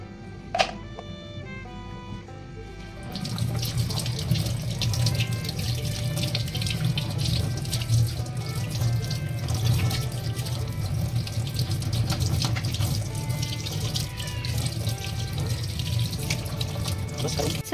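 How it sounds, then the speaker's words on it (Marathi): Water runs from a tap while pomfret fish are cleaned under it; a brief tap and quiet start give way to a steady, close splashing stream that continues to the end. "आम्ही पहिल्यांदाच मासे साफ करतोय।"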